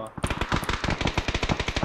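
Rapid automatic gunfire in the video game PUBG, a dense string of sharp shots in quick rhythm, loud and close, with a brief voice near the start.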